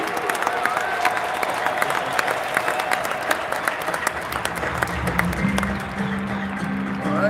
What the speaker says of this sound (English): Let's really clap it up for this creative man